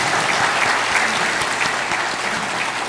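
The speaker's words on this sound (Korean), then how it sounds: "우리 박수로 환영하겠습니다" Church congregation applauding to welcome a guest, a dense, loud and steady wash of many hands clapping throughout.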